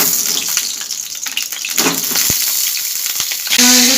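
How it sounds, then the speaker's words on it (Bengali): Pointed gourd frying in oil with salt and turmeric, a loud, bright sizzling hiss with sharp crackles and pops, rising into a fuller, steadier sizzle toward the end. "পটলটা নুন হলুদ দিয়ে ভেজে নেব"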